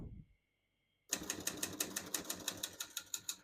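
Keys clack on a 1954 Olivetti Lettera 22 portable typewriter, a quick, even run of about fifteen crisp close strikes after a brief silence.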